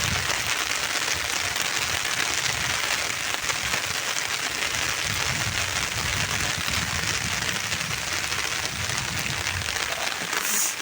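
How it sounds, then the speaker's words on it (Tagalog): Steady rain falls at the far end of Wawa, sheltered under an umbrella, making a dense, even hiss of drops that never lets up, with no voices. "Tapos naulan."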